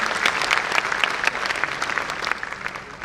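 Loud, dense applause from the audience at a Hindi kavi sammelan poetry gathering, a continuous crowd of clapping hands filling the whole stretch.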